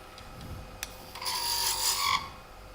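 A 3/8 spindle gouge cuts into a spinning wooden ornament on a lathe, a steady hissing scrape rising for about a second before stopping, over constant motor hum.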